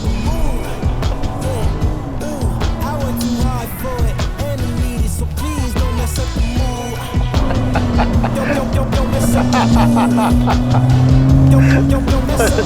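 A widebody Rolls-Royce Cullinan Black Badge with over 700 hp revs hard and climbs in pitch, tires squealing as it accelerates, with excited voices shouting over the roar.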